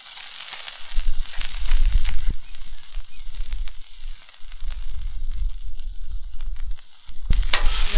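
Frozen corn sizzles and crackles hard in a pan on high heat, with a continuous loud frying hiss and a spoon scraping through it in intermittent stirring strokes.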